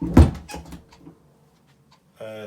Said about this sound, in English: Whoop, close the door.